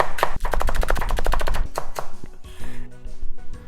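A knife cuts scallions into thin slices on a cutting board, with a rapid burst of crisp, evenly spaced chops followed by a few slower cuts, close and clear with no talking.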